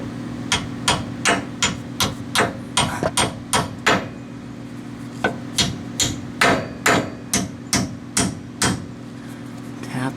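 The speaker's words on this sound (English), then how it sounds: "I'm going to take a hammer and just lightly" Hammer tapping a bolt on a VW IRS trailing arm hinge, repeated sharp metallic taps in irregular bursts over about ten seconds, close and moderately loud over a steady background hum.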